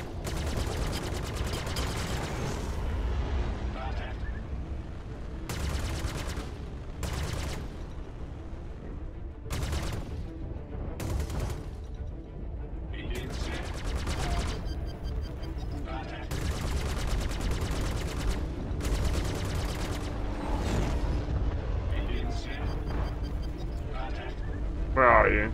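Spaceship guns in the space dogfighting game Star Citizen fire in several long rapid bursts over a steady engine hum, while a person talks at length throughout.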